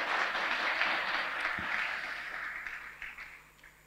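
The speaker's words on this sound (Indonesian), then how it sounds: "Tepuk tangan untuk kita semua" A hall audience at a public discussion with students and a government minister breaks into applause, a broad, fairly loud wash of many hands with no talking, slowly thinning and fading over a few seconds.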